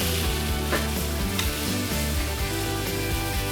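Tomatoes sizzle steadily in olive oil in a pan, a loud, continuous hissing crackle close up, with no voices over it.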